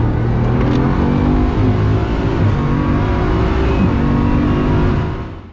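A Bugatti Chiron Pur Sport prototype accelerates hard on the Nürburgring, its engine roaring loud and close in a sustained, rising pull that fades at the end, with no talk.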